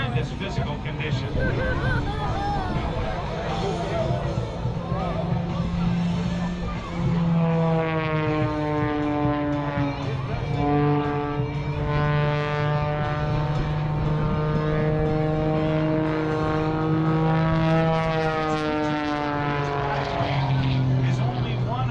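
A factory-built Pitts S2S aerobatic plane performs at the Cherry Point Air Show, its loud, steady engine drone sweeping up and down in pitch as it maneuvers over the trees.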